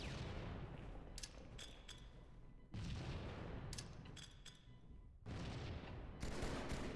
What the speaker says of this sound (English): just start chucking nades at it.